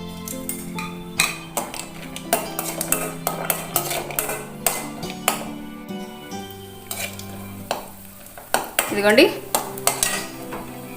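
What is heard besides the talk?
cashews frying in ghee in a pan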